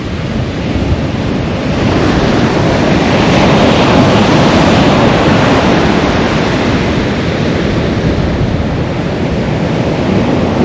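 Ocean surf rolls in steadily along a long, rough beach near Brou Lake, a loud, continuous wash of breaking waves mixed with gusty wind buffeting the microphone, with no voices.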